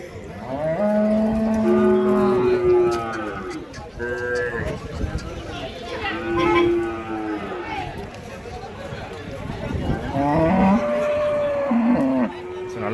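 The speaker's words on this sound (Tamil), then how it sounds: "ஸோ 2 பசு மாடு எடுத்துன்னு வந்திருக்காங்க, நாட்டு பசு மாடு." Native breed cows lowing at a cattle market in Vaniyambadi, several long drawn-out moos close by and repeated across the clip, with a crowd chattering and someone talking over them.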